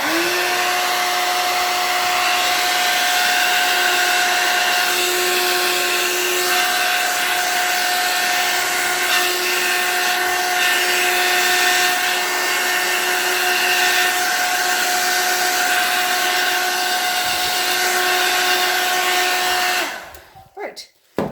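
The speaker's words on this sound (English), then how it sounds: "So I'm going to take a hairdryer and we're going to blow this all over the place." A hair dryer blows poured paint across a background at close range with a constant whine, running loud and unbroken for about twenty seconds before switching off.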